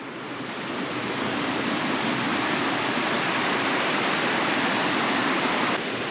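Water from a shallow forest stream pours steadily out of a waist-deep pool beside a campsite in the woods, a dense continuous rush that swells slightly in the first second and then holds even and close, with no voices.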